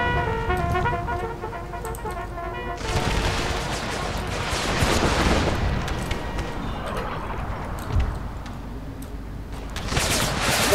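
Massed musket volleys from Confederate and Union lines in an American Civil War battle mod, a rolling crackle of gunfire that swells and thins over several seconds, with hoofbeats and battle din mixed in and no talk.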